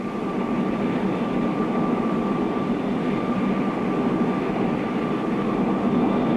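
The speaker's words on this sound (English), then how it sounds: "Andy's sure got a good plane here." Cartoon propeller airplane in flight, a loud, steady engine drone with constant broadband rumble that holds evenly throughout, no talking.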